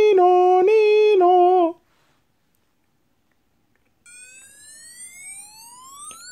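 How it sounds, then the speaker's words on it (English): Fire engine siren in a Fireman Sam cartoon, sounding loud and close in a wailing tonal pattern that stops abruptly, then after a short silence a rising, gliding siren tone swells back in at a softer level. "Sam and Elvis turn on the lights and siren again as they rush off to rescue Lion."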